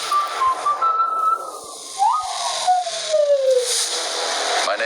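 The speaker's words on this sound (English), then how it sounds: "A whistle." A high, sliding whistle tone glides up and down in long drawn pitches, clear and fairly loud over a faint airy background.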